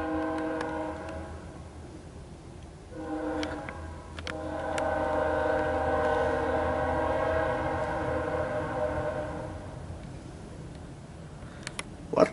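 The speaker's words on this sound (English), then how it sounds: "What type of horn is that? Is that a K3HL?" A BNSF C44-9W diesel locomotive leading a manifest freight in El Paso, Texas sounds its unusual horn in long sustained chords with a short break, loud and fairly close over the low rumble of the train.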